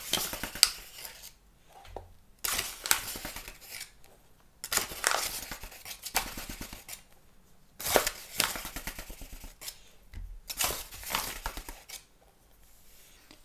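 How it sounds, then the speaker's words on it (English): Dry muffin ingredients, flour and sugar, going into a mixing bowl with a 1/4 cup measuring cup, heard as bursts of scooping, pouring and scraping with clinks against the bowl, separated by short pauses, close up with no talking. "we're gonna put all of our dry ingredients into the mixing bowl first"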